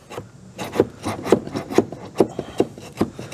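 Repeated hollow knocks on the wooden cross members of a box trailer roof, about eight sharp taps in a loose irregular rhythm, close by with faint scraping between them.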